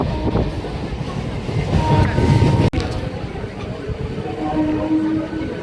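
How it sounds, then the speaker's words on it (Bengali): A local passenger train pulls away with a loud, continuous rumble of wheels and carriages heard from on board, including one sharp knock partway through. "চলো, ট্রেন ছেড়ে দিয়েছে আর কত ফাঁকা দেখো"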